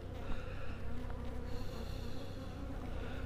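Honeybees in an opened hive during winter inspection, a dense, steady buzzing swarm close by and quiet, with no talk.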